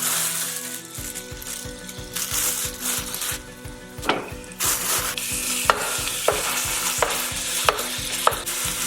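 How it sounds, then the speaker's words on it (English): Ground beef browns in a pan with olive oil and garlic, giving a steady close sizzle under repeated scraping and stirring strokes from a utensil against the pan. "Gonna cook all the moisture out, let it start to fry up."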